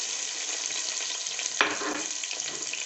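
Whole spices and onion sizzle steadily in hot oil in a pan while paneer pulao is being made. A brief clatter from stirring or adding ingredients breaks in partway through, close and continuous with no voices.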